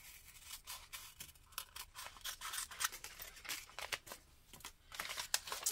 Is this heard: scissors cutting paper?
yes